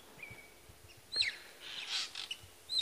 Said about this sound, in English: It is that drongo. Making such a racket.